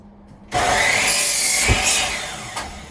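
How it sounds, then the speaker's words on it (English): A chop saw bites into a wooden ladder rung, starting abruptly after a brief quiet and holding a loud, steady rasping cut for over two seconds before easing off, close by with no talk. "Just using a chop saw."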